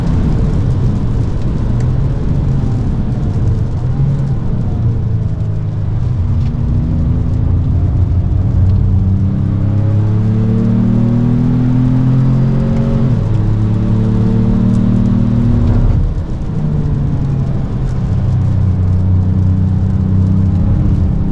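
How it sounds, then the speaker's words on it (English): 2025 Ford Maverick LOBO four-cylinder engine pulling on a race track with strong induction noise, loud and close from inside the cabin, rising revs sweeping up repeatedly with brief dips at shifts, no talk. "Four-cylinder sounds nice and meaty too. Good bit of induction noise there."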